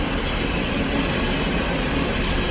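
A long train rumbles past nearby, close and loud, with a steady roar of wheels on rails and no break throughout.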